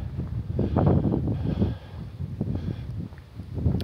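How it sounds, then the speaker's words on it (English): Steady wind buffeting a microphone outdoors in Haines, Alaska, with low rumbling gusts rising and falling and no voices. "everywhere else in Alaska, it's always windy"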